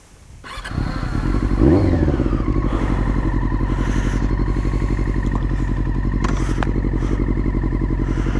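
A Yamaha R6 sport motorcycle with an aftermarket Delkevic exhaust starts up and settles into a loud, throaty idle with a deep, steady rumble, close by and alone.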